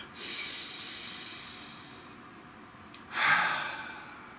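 Two deep breaths close to the mic, a long drawn inhale early on and a sharper, louder rush of breath near the end, hissing and airy with quiet between.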